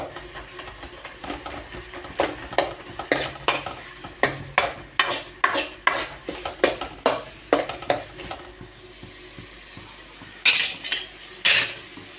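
A spoon stirs and clinks against a metal pot as a hot tempering goes into rasam, with a long run of sharp, rhythmic scraping taps close by and two louder sizzling bursts near the end.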